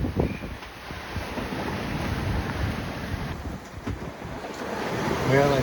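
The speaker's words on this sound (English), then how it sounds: "The wind was blowing 16 to 20, and the boat was heeling 20 or 30" Wind of 16 to 20 knots and choppy waves rush past a heeling, reefed sailboat on a passage from Rock Sound, Eleuthera to Highborne Cay in the Exumas, a continuous loud roar with buffeting microphone wind and swelling surf.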